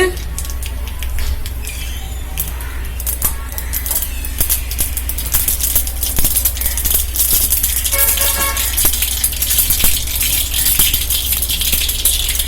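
Half a spoon of mustard seeds sputter and pop rapidly in hot oil, a dense, continuous crackle over a steady low hum.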